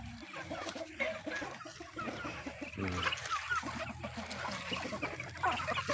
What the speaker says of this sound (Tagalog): Ito mga manok nila.